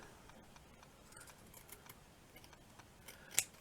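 Scissors snip once through ribbon on an altered bag, a single crisp cut near the end after quiet handling noises, faint and close.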